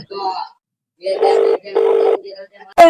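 A phone rings while a call is placed to a home painter: a short tone, then two longer ring bursts separated by brief silence, close and clear, with a sharp click at the end.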